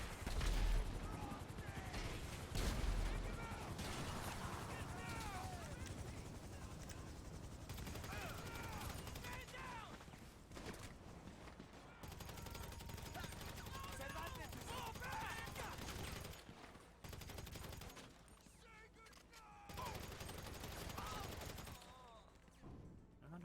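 Gunfire rattles from shooting enemies in GTA V during the Cayo Perico heist, with dense bursts and fusillades that run almost the whole time under game sounds and occasional talk.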